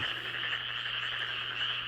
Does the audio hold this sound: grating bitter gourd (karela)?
no